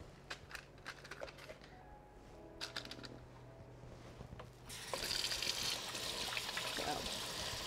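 Faint kitchen clatter and soft knocks give way to a steady rush of tap water as oily hands are rinsed under a faucet, the flow continuing to the end.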